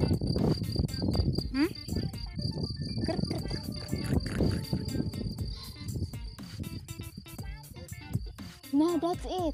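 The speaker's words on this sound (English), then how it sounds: "Did you hear that? Crickets?" Crickets chirp in a steady high-pitched trill throughout, while people talk nearby over it.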